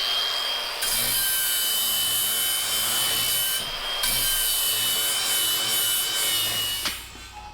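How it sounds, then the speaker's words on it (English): Harsh metal grinding on a Jeep XJ as bevels are cut into the metal: a loud, sustained abrasive whine with a few brief dips, heard alone without speech. "he's just gonna grind some bevels in there, and then that should fit good"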